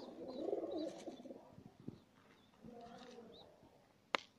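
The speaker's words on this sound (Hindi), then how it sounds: "कबूतर के बच्चे को आप ये करते जाएंगे, वो खुद ही खाना शुरू हो जाएगा।" A baby pigeon being hand-fed millet coos and makes soft bird calls up close, with faint rustling and a few brief clicks and taps near the end.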